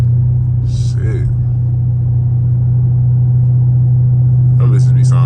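Steady, loud, deep drone of a straight-piped 345 Hemi Dodge Charger RT pulling hard on a highway, heard from inside the car, with a couple of short vocal bursts over the constant exhaust rumble.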